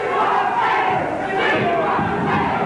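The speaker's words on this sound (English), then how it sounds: "You can hear the crowd saying, "We want Slater."" Wrestling arena crowd in Tampa during a late-1970s to early-1980s CWF match, chanting loudly and steadily in unison for a wrestler, a dense continuous roar of many voices close around.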